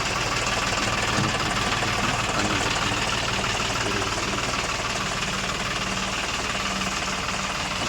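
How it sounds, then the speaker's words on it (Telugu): A John Deere 5210 tractor engine runs steadily and close, a continuous low rumble with a rough knocking throb and vibration that holds at the same level throughout, with no voices. "నేను ట్రాక్టర్ స్టార్ట్ చేస్తా."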